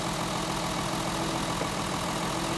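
A rough-running gas engine idles with one spark plug lead pulled during a misfire check, a loud, continuous, slightly uneven low rumble heard up close with no talk.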